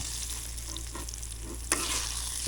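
Eggplant slices frying in hot oil as they are lifted out, giving a steady close sizzle with a brief louder crackle near the end and no talking.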